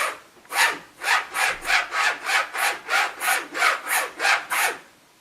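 A straight razor strop of rough fire hose is rubbed in steady back-and-forth strokes, a dozen or so rhythmic raspy swishes, close and fairly loud.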